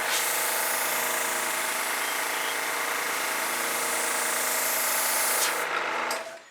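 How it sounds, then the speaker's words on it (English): Airbrush spraying fluid acrylic paint over a sunset landscape painting, a loud, steady close hiss that holds for several seconds and then cuts off. "With my airbrush."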